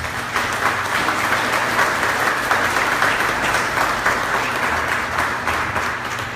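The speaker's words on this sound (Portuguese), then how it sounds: "Vamos dar uma salva de palmas para as pessoas." Sustained audience applause in a church hall after a pastor calls for it, loud and dense clapping that holds steady for several seconds.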